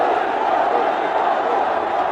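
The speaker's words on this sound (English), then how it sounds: "The crowd is obviously roaring." A cricket stadium crowd roars in a dense, unbroken wash of noise, loud and steady throughout with no single voices standing out.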